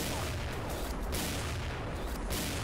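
Rapid gunfire in the shooting game XSHOT rattles on without a break, with dense overlapping shots and booms forming a steady, loud wall of noise.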